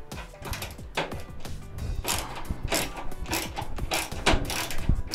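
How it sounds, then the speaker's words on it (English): A Phillips screwdriver works loose a tight screw on an old RCA microwave, giving close, repeated ratcheting clicks and creaks in bursts, with turning strokes breaking up a steady run of mechanical noise. "let's go ahead and loosen this one up"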